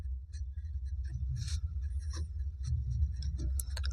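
Chalk or marker writing on a board in a Class 10 maths lesson, quick scratchy strokes and taps in irregular bursts over a low room hum, close and soft, with no speech.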